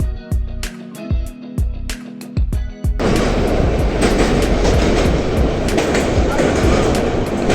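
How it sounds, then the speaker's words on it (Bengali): The Dhauli Express passenger train, running from Puri toward Howrah, gives sharp, rhythmic wheel clacks over rail joints, then a loud, dense roar as it speeds along, heard from on board. "কিন্তু তারপরে আবার ট্রেন ভীষণই স্পিড তুলে নেয়"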